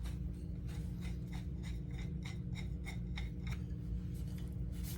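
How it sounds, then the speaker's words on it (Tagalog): Screw being driven into a coat rack foundation through its pre-drilled hole, giving a steady run of short, raspy scraping turns close by over a low background hum. "Dito mo siya i-screw."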